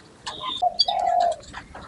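Cucak pantai songbird in daily care, giving a few clear, close whistled calls and chirps in quick succession, the longest a sustained note near the middle, alone without talk.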